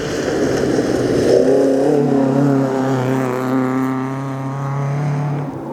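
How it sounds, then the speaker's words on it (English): An Opel Manta rally car charges past on a cold stage of the Riponian Stages 2025, its engine roaring close and loud, the pitch sliding downward as it goes by, with no voices over it. "These cars are getting a bit faster now, so."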